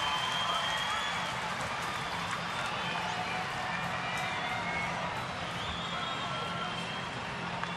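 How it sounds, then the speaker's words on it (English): Steady roar of a baseball stadium crowd at an Oakland at Detroit game in 2011, urging on batter Bosch; a continuous, even wash of many voices and scattered clapping with no sharp peaks. "Crowd trying to get behind Bosch."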